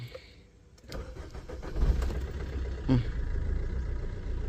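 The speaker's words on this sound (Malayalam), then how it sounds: "വണ്ടി സ്റ്റാർട്ടായി" A 2012 Maruti Ertiga ZDI diesel car cranks briefly and fires up, then settles into a steady, fairly quiet diesel idle close by.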